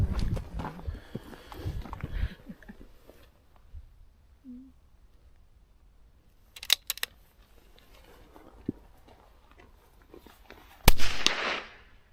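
Gunshots at an outdoor quarry shooting range, a few sharp distant reports spaced across the clip with quiet gaps between them and one louder, closer blast near the end.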